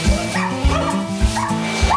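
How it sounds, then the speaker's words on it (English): A dog at a grooming shop gives a quick run of loud, close yips and short barks, mixed with whimpering. The yelps come in an uneven, rapid rhythm over faint background noise. "This is one of the dogs that we're grooming."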